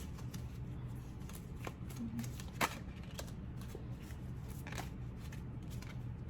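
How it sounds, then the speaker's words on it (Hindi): Tarot cards are handled and pulled from a deck, giving soft, faint riffling and shuffling rustles over a quiet room, with no voice. "I'll pull few more cards for you guys."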